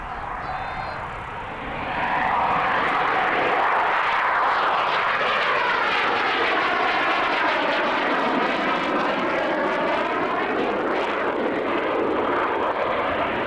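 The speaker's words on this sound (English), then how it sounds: "What type of aircraft is flying? It looks like a Hunter to me." A Hawker Hunter jet flies overhead, a loud roaring rush that swells after a couple of seconds and holds with a sweeping, shifting tone as it passes.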